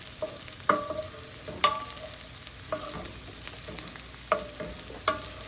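Garlic fries in a pot for a one-pot tortellini with Italian sausage, a quiet steady sizzle broken by a few sharp utensil clinks against the pot rim.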